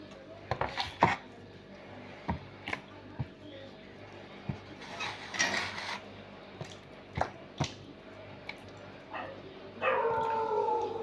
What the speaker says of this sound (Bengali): এইভাবে আমি কেটে নেব আলুগুলো।